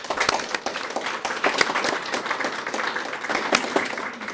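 Applause from the audience at a Peoria school board meeting honoring teachers, a steady wash of many hands clapping with sharp individual claps popping out, fairly close and continuous throughout.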